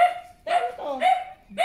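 A dog barks in a household in the Philippines, three or four loud, close barks spaced in an uneven rhythm with short gaps between them.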